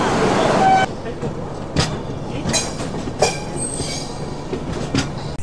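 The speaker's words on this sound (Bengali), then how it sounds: "ট্রেন এক্ষুনি ছেড়ে দেবে" The Himgiri Express train departs a station, rumbling and clanking along the rails, with a brief high squeal of wheels early on and occasional metallic knocks, fairly loud and close.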